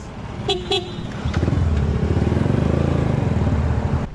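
A motorcycle engine idles and revs close by, with two short horn toots near the start and a steady pulsing throb after.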